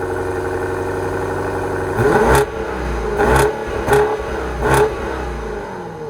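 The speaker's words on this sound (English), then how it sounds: "Let's see what this V8 sounds like." Four quick, loud revs from an Alpina B8 V8 through the Alpina exhaust, each a short surge rising above a steady idle, heard up close with no talking.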